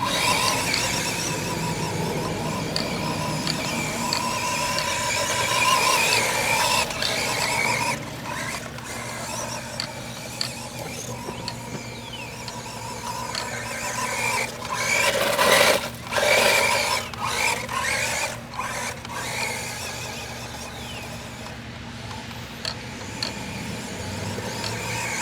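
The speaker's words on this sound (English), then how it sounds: "for our second test, we're going to do a little driving through the grass here" A 9115 RC monster truck drives through grass, its small electric motor whining steadily and loudly at close range for a long stretch while wheels scrub and squeal against the blades.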